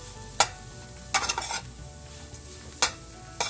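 Finely diced mushroom and sausage filling cooking in a pan, with a low steady sizzle under four or five sharp scraping strokes of a spoon or spatula, close and quiet, with no talk.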